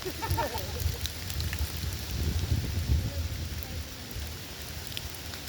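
Steady rain patters outdoors, a broad hiss of drops with low rumbling underneath, fairly close and continuous, with faint voices mixed in.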